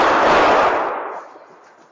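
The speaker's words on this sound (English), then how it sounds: "you can hear the 2 gunshots in this clip of the video" Gunfire at the Cielo Vista Mall shooting, a loud sharp blast that rings out and fades slowly, with no voices.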